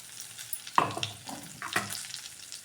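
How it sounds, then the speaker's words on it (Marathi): Eggplant and masala fry in a pan with a soft sizzle, broken by a few close scraping stirs of a spatula. "सर्व मसाला पण आपण वांग्यांबरोबर परतून घेतलेला आहे"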